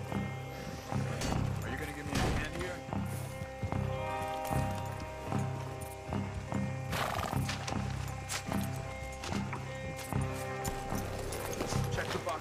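Horse hooves clip-clopping in Red Dead Redemption 2 during a supply-wagon robbery, a steady rhythmic trot that continues throughout under in-game voices and music.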